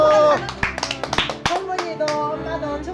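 Hand clapping from the audience at a TV trot-music gala show, a handful of separate claps over music and voices, with speech throughout.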